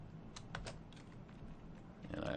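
Quick bursts of keystrokes sound on a computer keyboard during office software data entry, soft and close, in uneven clusters with short pauses and little background noise.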